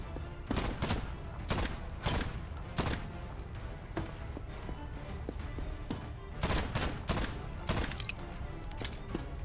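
Gunfire rings out in the Voidtrain survival game: repeated sharp shots come in clusters, with quick bursts and single cracks at close range, fairly loud and with no voice over them.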